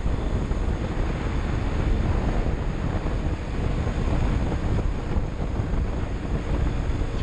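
Steady, loud wind roar buffeting the microphone while riding a Kawasaki Z250SL 250cc motorcycle in cold winter, with constant low rumble from motion and no voices.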